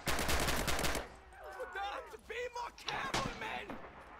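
Machine gun fire in the World War II shooter Red Orchestra 2, with a dense burst of rapid shots for the first second, then quieter scattered shots and battle noise.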